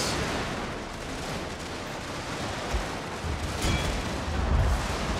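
A Total War battle between Russian forces and grenadiers in melee rumbles with continuous dense musket volleys and booming artillery, a loud, unbroken wall of gunfire with heavier thumps toward the end.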